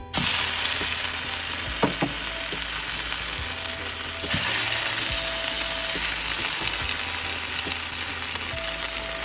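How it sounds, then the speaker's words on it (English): Steady close-up sizzle of salmon pan-frying, a constant hissing crackle with occasional clinks and light knocks of utensils. "So this one's simple, everybody. Pan-fried salmon."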